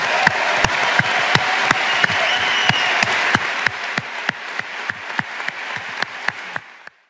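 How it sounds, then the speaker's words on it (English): A conference audience at the Web Summit applauds Paddy Cosgrave and his team, a full, sustained round of clapping with a few sharp louder claps standing out, easing off toward the end before it stops. "a huge round of applause to Paddy Cosgrave and the team of the Web Summit"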